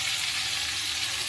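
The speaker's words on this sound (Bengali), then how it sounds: "এই মেখে রাখা মাছটা আমি আস্তে আস্তে কড়াইয়ের মধ্যে দিয়ে দেবো" Marinated loitta fish frying in hot oil in a wok, giving a steady, dense sizzle that holds evenly throughout without any voices.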